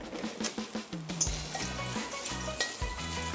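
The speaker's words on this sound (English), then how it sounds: "That is the sound of the water leaving the mushroom." A mushroom dropped into hot, shallow oil sizzles steadily with a crackling hiss, close by and continuous, with a low tonal hum underneath.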